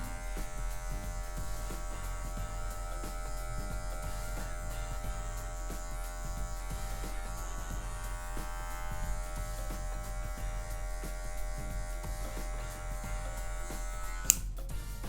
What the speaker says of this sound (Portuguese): Sempre usando a quina da maquininha também.